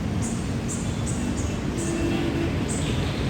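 Steady rumbling of an LRT-1 light rail train at the elevated Blumentritt station in Manila at night, with a continuous low mechanical roar and faint periodic high clicks.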